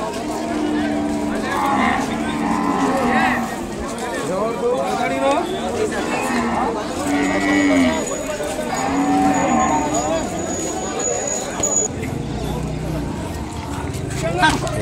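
Ongole bull calves at a cattle market, several loud drawn-out moos repeating close by, with people talking and crowd chatter underneath throughout.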